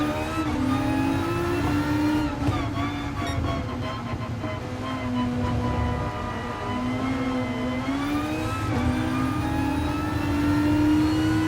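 A Gr3 race car in a wet Red Bull racing video game holds a loud, continuous engine drone, its pitch rising and falling as it accelerates and shifts, with no voices.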